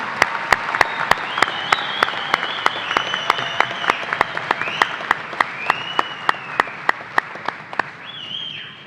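Applause for doctoral and master's graduates rolls through a university commencement, a broad wash of clapping from the crowd, with a steady, evenly spaced beat of sharp claps running through it and a few whistles and cheers over the top.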